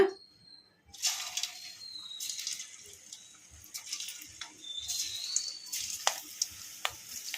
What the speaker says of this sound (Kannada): ಈಗ ಎಣ್ಣೆ ಕೂಡ ಬಿಸಿಯಾಗಿದೆ ಈಗ ಇದಕ್ಕೆ ಕಾಲಿಫ್ಲವರ್ನ ಒಂದೊಂದನ್ನೇ ಬಿಡಿಸಿ ಹಾಕೋಣ